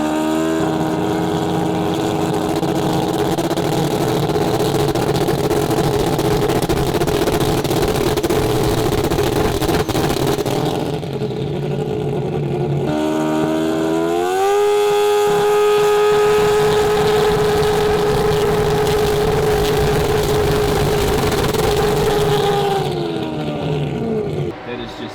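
A 4-rotor Mazda RX-7 with an AWD two-step launch setup and added fuel runs loud and steady, its rough rotary drone holding near one pitch, then briefly rising and settling again, with people talking over it.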